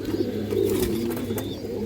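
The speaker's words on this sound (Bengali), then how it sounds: "এটা খয়রি গলা নর কবুতর" A brown-necked male pigeon coos close by, a low soft rolling call with a few faint chirps from other birds behind it, and no one speaking.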